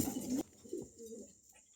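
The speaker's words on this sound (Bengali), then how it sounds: "এখানে দুই প্রজাতির দুটো কবুতর আছে" Close, low cooing from two pigeons of different breeds, a throaty burst at the start followed by softer, fading coos.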